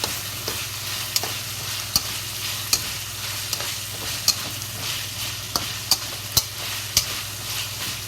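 Chili sauce fries in hot oil in a wok for fish-flavored shredded pork, a steady loud sizzle punctuated by regular sharp scrapes of a spatula stirring roughly every half second to second.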